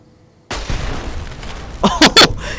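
Enemy blowing apart in Fallout: New Vegas, a sudden loud burst onset followed by rumbling debris, then a couple of sharp pops or blasts near the end, close and forceful.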